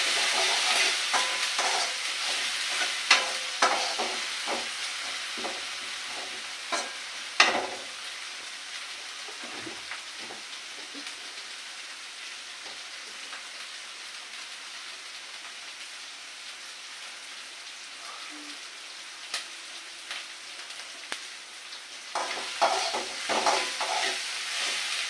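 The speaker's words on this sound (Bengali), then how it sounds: "লবণটা দিলে লবণটায় পেঁয়াজটাকে গা থেকে জলটা ঝরিয়ে তাড়াতাড়ি পেঁয়াজটা ভাজি হবে।" Onions fry in a pan with salt and turmeric, giving a steady close sizzle with bursts of stirring and utensil clatter at the start and end and a quieter, even hiss in between; nobody talks.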